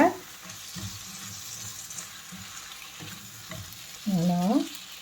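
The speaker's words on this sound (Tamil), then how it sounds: "அந்த இறாவை வந்து நம்ம எண்ணெயில் வந்து லேசாக வதக்கிட்டு" Prawns frying lightly in oil, a steady soft sizzle with occasional stirring sounds; a brief louder scrape or clatter of utensils comes near the end, with no talk.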